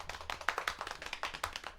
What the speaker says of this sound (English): Got all the claps